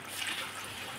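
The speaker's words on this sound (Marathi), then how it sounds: "आता तेनमा टाकस मी 1 तांब्या पाणी" Water, about a pot's worth, is poured into a paneer curry, giving a soft, continuous splashing trickle for a brief moment.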